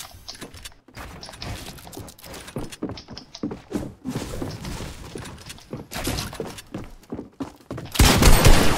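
Rapid bursts of pump shotgun and assault rifle gunfire in the Fortnite video game, a dense run of sharp cracks and mechanical clatter at close range, growing louder at the end.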